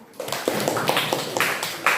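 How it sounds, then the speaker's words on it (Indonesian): A classroom of students claps for a classmate who gave a correct answer during a news-text lesson, a light scattered patter of hands with a few sharper taps, fairly close and moderately loud. "Beri tepuk tangan dulu"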